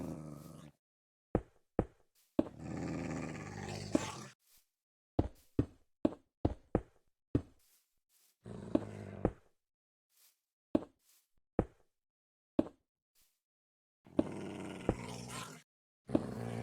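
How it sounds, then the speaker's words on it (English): A wolf in a Minecraft modpack growls in low, rough bursts between sharp clicking taps and thumps, with quiet gaps between the sounds. "Wolf."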